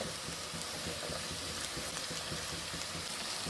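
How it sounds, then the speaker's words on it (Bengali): Beans, eggplant and tomato fry together in a pan, giving a steady, soft, even sizzle and crackle with no talking. "এবার সবগুলো একসাথে ফ্রাই করে নিচ্ছি।"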